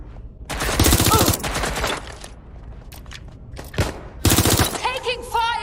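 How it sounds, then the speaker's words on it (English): Bursts of automatic gunfire in the video game Watch Dogs: Legion, loud rapid volleys coming in two main bursts with scattered single shots between, and game voices calling out over the action. "Target is firing!"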